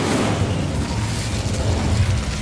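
An Incendio fire spell cast in the video game Hogwarts Legacy: a loud, sustained, rumbling burst of flame and blast that holds steady throughout, with no speech over it.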